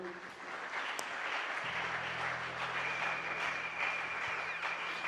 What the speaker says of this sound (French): nous applaudissons pour notre Dieu.